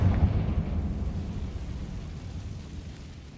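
In the Hogwarts Legacy video game, a Confringo blasting curse explodes with a deep, rumbling burst up front that slowly decays into a low, fading roar over a few seconds.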